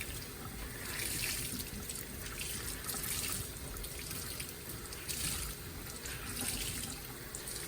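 Tap water running steadily into a sink while tie-dyed fabric is rinsed, a continuous close splashing hiss with slight surges as the cloth is moved, alone without talking.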